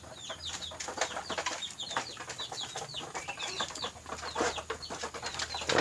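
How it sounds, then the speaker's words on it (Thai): Chickens and ducks at feeding time make a busy flock noise of soft clucks and high chirps, with occasional wing flaps, steady and moderately close. "ดีเลยนะทั้งไก่ทั้งเป็ด"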